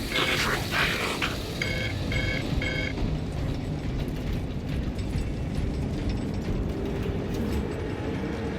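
Heavy crane machinery moving a payload in the Space Marine 2 video game, a dense mechanical clatter and grinding rumble throughout with a brief series of tonal beeps early on.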